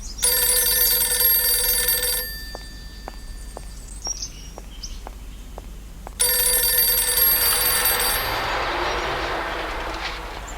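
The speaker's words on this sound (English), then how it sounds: "Could that be a telephone ringing?" A video game telephone rings loudly in a long electronic burst, pauses with faint ticking clicks, then rings again, the second ring fading slowly.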